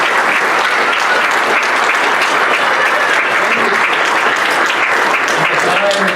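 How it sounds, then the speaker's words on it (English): Sustained, loud applause from a banquet crowd at an athletics hall of fame dinner, many hands clapping in an even, dense roar, with faint voices mixed into the room. "Would you give these individuals a round of applause for their efforts?"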